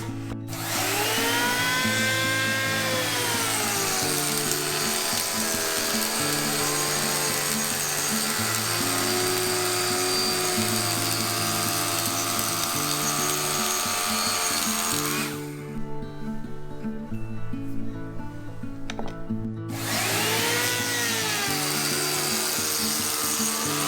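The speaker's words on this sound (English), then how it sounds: "I'll cut a groove for the riser at the bottom of the thread." A power tool cuts a groove into wooden stair tread for a riser during a Japanese carpenter's staircase renovation, a loud, steady whining drone with shifting pitch and a short dip in the middle, no talking.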